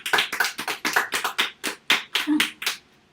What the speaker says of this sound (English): Let's hear a round of applause for the Almighty.